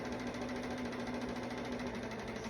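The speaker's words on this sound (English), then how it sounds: "Any of you sew with the 7 series Berninas, it kind of gets a little thirsty, lets you know it's time to oil it." Bernina 7 series sewing machine running while it needs oiling, a faint steady mechanical whirr with a constant rapid pulsing and a low hum, heard alone without talk.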